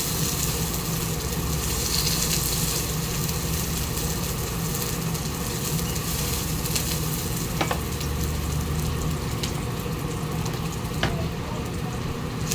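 Eggplant sizzles in a small amount of cooking oil, a constant close crackling hiss with a few sharp pops and no talking.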